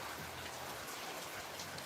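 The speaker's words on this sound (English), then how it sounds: "This rain, this has been coming here off and on." Steady rain falls outdoors as a soft, continuous patter, fairly faint and even throughout, with no voices.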